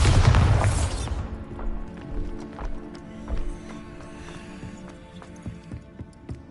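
A Bombarda blast spell in the Hogwarts Legacy video game sets off a loud explosive boom at the start, then crumbling debris and scattered clatters fade out over several seconds.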